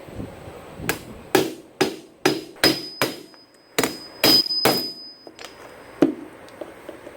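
Repeated sharp hammer strikes ring out, about a dozen blows in uneven bursts, close and loud, as a metal part is driven into a Dana 20 transfer case on a 1966 Ford Bronco.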